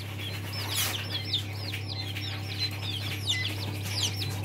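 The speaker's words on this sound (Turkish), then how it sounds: "Bunlar Çin bıldırcınlarıydı." Chinese quail chicks chirp in a rapid series of high, thin peeps over a constant low electrical hum, fairly close.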